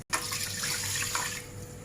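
About one cup of water is poured into a cooking pot while making ghee rice, a steady close splashing pour that goes on without a break and fades slightly at the end.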